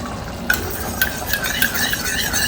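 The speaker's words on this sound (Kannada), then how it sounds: "ಸ್ವಲ್ಪ ನೀರು ಹಾಕಿ ಹಿಂಗೆ ಮಿಕ್ಸ್ ಮಾಡಿ" A spoon clinks and scrapes against a bowl while stirring a thin cornflour and water slurry for chilli chicken, a few sharp taps amid a soft swishing, close and alone.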